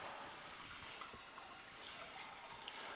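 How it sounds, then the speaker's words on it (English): Tap water rinses the auger of an Omega Juice Cube 300S juicer, a steady faint hiss of running water splashing continuously over plastic with no other sounds. "rinse off the auger"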